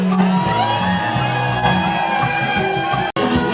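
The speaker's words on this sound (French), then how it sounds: "est-ce qu'on peut pousser les cris de joie?" Crowd at an evangelism campaign gathering lets out sustained shouts of joy, a loud mass of whoops and yells holding steady before cutting off abruptly near the end.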